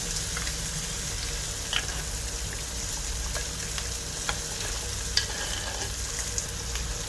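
A steady, continuous bubbling sizzle from fish curry boiling in a pan on the heat, even and unbroken, with occasional small pops and ticks.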